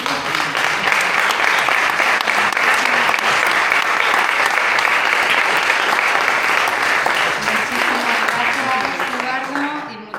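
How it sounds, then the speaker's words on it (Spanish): Sustained, dense applause from an audience at a book presentation, loud and close, continuing steadily for about ten seconds before tapering off as someone starts to speak. "Yo creo que vamos a darles un aplauso a las personas que han venido"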